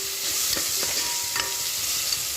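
Ginger garlic paste sautéing for mutton sukka, a steady soft sizzle with a few brief scraping stirs of a spoon through the pan, close and continuous, no voices.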